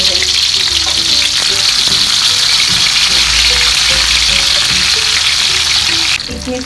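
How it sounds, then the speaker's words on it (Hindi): Stuffed okra (bhindi) shallow-frying in oil, giving a steady, close, hissing sizzle with light stirring clatter throughout and no talk. "फ्राई यानी कि शैलो फ्राई थोड़ी सी रखेंगे ताकि ये ना ज़रा सॉफ्ट सी हो जाए"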